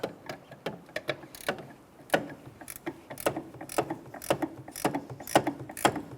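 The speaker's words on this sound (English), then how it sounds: "I can use my ratchet wrench or gear wrench, get in there" A ratchet wrench loosens the brake master cylinder studs on a 2002-2005 Ford Explorer, making quick bursts of sharp, fairly quiet clicks with short pauses between strokes.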